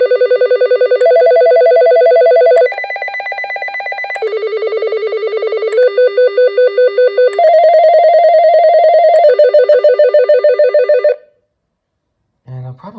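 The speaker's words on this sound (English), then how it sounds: "So here are the ringtones on this thing." Cordless telephone ringtones play one after another, each a loud electronic melodic ring pattern lasting a couple of seconds, switching tones through the sequence before stopping, followed by a brief voice at the end.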